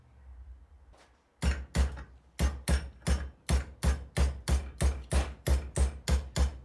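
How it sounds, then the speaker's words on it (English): A hammer strikes metal tongs held in a vise, a quiet scrape followed by a dozen steady, ringing blows at an even rhythm. "So I chuck it back up in the vise and just use my hammer to put a secondary cant."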